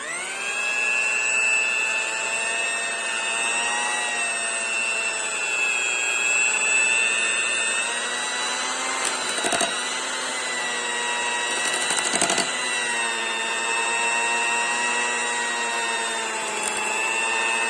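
An electric beater whirs steadily through coffee cake batter, giving a continuous high whine with a couple of brief scraping knocks partway through.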